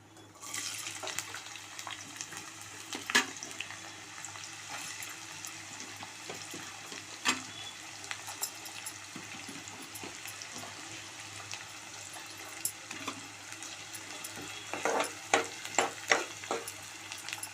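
Onions frying in a pan for a mutton and raw mango curry, a steady close sizzle with scattered scraping and clinking stir strokes, busier toward the end.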